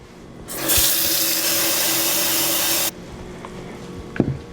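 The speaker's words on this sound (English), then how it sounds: "And we'll cover it with some cold water." Cold tap water runs loudly into a small bowl of sliced onions for about two seconds, then cuts off, followed by a few faint clinks in a quiet kitchen.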